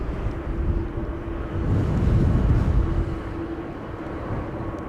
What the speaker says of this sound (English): Iberia Express arriving from Madrid, flight 1791.